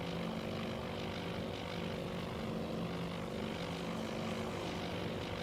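A constant propeller-plane drone fills the whole stretch, a steady engine hum with a low throb, as a float plane fighter passes close by in the video game Task Force Admiral.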